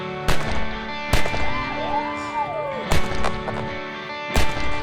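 Revolver gunshots at a cowboy mounted shooting event in Tombstone, Arizona: four loud, sharp bangs spaced about a second apart, set against outdoor background noise.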